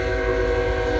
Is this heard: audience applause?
no